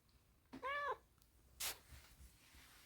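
A cat gives one short, quiet meow, followed a moment later by a brief breathy rustle, in an otherwise calm setting.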